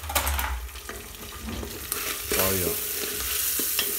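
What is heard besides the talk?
onion frying and being stirred in a pan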